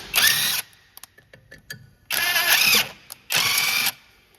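Bolt threaded in to push the brake rotor off the hub on a 2010-2022 Lexus RX350 AWD rear, heard as three loud bursts of power tool whirring, separated by pauses with faint clicks.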